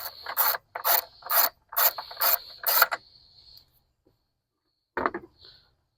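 A 1/4-inch drive ratchet with a deep 10mm socket loosens a car battery nut, giving six rapid clicking bursts in a steady rhythm, close and crisp. A short single click follows after a pause.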